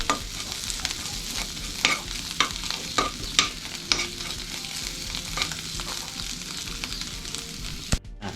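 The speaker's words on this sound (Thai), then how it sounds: "พอเราคั่วพริกจนหอมแล้วนะครับ" Chilies dry-roast in a pan for a fish stir-fry, with repeated sharp scrapes and clacks of a stirring utensil over a constant sizzling hiss, close and fairly loud, with no speech.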